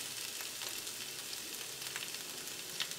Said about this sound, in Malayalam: ഇനി ഒരു മീഡിയം ഫ്ലെയിമിലിട്ടിട്ട് ബീഫ് ഒന്ന് വറുത്തെടുക്കാം.